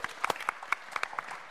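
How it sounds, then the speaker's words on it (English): A small audience at a London utility-innovation conference gives faint, scattered applause for two energy startups, a thin patter of separate claps at a distance with no steady roar behind them. "Big round of applause for those guys."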